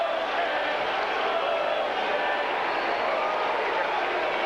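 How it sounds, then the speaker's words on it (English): Husky fans at a 1990 Washington versus Arizona State college football game in Tempe roar after a touchdown, a sustained, dense crowd noise holding steady. "a crowd roar goes up from the Husky fans assembled here in Tempe"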